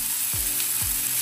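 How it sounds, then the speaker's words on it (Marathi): Green chilies sizzle while tempering in hot oil for a Maharashtrian dry fenugreek dish, giving a dense, constant frying hiss close by, with two brief low thumps from stirring. "आता मिरचीला फोडणी दिली"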